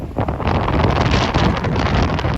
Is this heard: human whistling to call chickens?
no